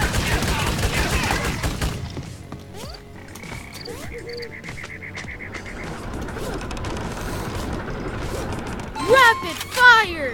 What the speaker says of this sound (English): Rapid fire.